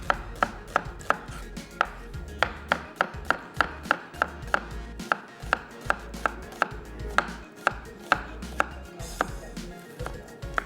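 Onions being sliced for a stuffed bitter gourd and minced meat recipe, a knife striking a cutting board in quick, steady, evenly spaced chops heard close up with no talking.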